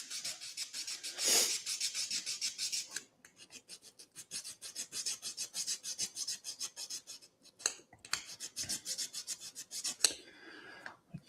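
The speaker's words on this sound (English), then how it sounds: "So just sand that off." Steady rasping strokes of sanding off excess plastic from a ROKR Gearball Scramble model kit part, repeated close and fairly loud in quick rhythm, with brief pauses and a few sharper scrapes.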